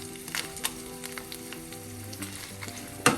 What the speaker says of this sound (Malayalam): എല്ലാം കൂടെ ഒന്ന് വഴറ്റി സമയം നമുക്ക് ഉണക്കമുളക് വലിച്ചു ചേർക്കാം